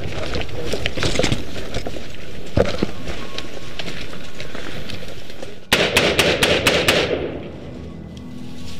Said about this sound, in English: an insurgent marksman gets into position to direct accurate fire